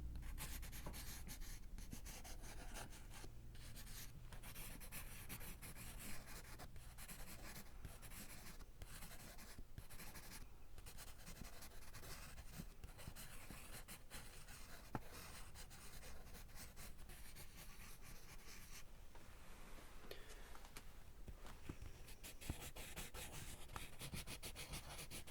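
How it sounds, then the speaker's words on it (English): A pen scratches steadily across paper up close for a long stretch, writing down a price during a merchant role play, with faint rubbing textures and no talking. "I'm going to write down the price"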